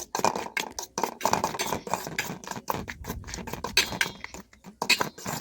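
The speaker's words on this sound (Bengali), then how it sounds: "শুকনো উপকরণগুলো ভালোভাবে মাখিয়ে একটু মিশিয়ে নেব।" Brinjal pieces being mixed with dry spices in a bowl by hand, a busy stretch of scraping, pattering and clinking that stops and starts, close and fairly loud, with no voices.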